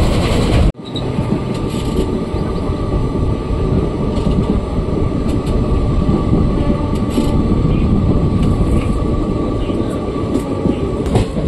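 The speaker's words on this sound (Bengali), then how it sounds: "তো আমাদের ট্রেন ইতিমধ্যে নিউ কুচবিহারে ঢুকে গেছে।" A train pulls into New Cooch Behar station on the Alipurduar to Siliguri route, heard from on board as a loud, steady rumble and rattle of wheels that carries on unbroken throughout, with no talking.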